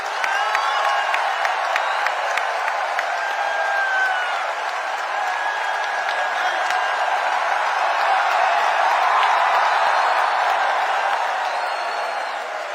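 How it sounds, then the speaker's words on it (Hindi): Sustained applause with some cheering from a crowd at a Chhattisgarh NHM employees' union convention, honoring the Chief Minister; dense, steady clapping that carries on for over twelve seconds at an even level. "जोरदार ताली"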